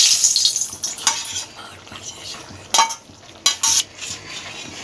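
Pointed gourd pieces go into a pan of potatoes cooking in a Bengali kitchen, with a soft simmering sizzle broken by several sharp metallic clatters and scrapes of a spoon against the pan.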